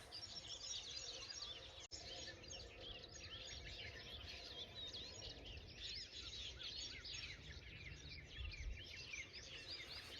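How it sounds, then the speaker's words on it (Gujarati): Birds chirp and call continuously in an open farm field, a busy mix of small bird voices over a low rumble of background noise. "ખેતરમાં પક્ષીનો અવાજ આવે છે જોરદાર તમે સાંભળો"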